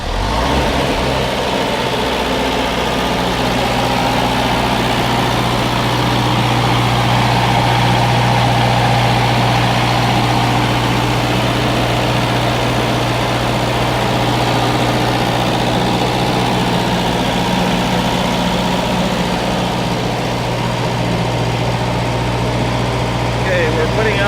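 Kohler 10 kW gasoline or propane generator running under about 3,000 watts of load in the cold, a loud, steady engine drone with a constant hum held throughout.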